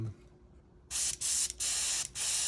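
Airbrush spraying paint onto a Bandai 1/500 Space Battleship Yamato model kit, three loud hissing bursts after a quiet start, each cut by short pauses, close and without talk.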